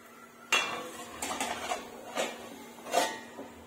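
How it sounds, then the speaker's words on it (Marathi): A metal plate set over an appe pan holding batter, a sharp clank followed by several lighter clinks and rattles of metal against metal as it settles into place, close and clear. "आता आपण ह्याच्यावर प्लेट झाकूयात"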